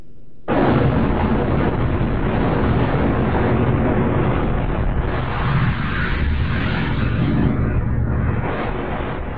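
A huge Big Bang explosion effect hits suddenly after a brief quiet moment, then roars on as a dense, sustained low rumble for several seconds without fading.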